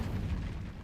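In the Hogwarts Legacy video game, the Incendio fire spell bursts out with a short, dense, booming whoosh of flame, low and rumbling, lasting under a second.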